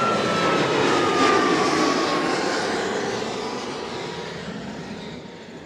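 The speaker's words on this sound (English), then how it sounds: "Alright, that was a Flare 737 Max." A Flair Airlines Boeing 737 MAX jet airliner roars past at Toronto Pearson airport, a loud broad engine rush that swells near the start and slowly fades as it moves away, with no talk.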